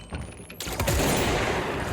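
Automatic gunfire from the service weapon's machine-gun form in the game Control, a rapid, dense burst of loud, close shots that kicks in after a short lull and keeps rattling continuously.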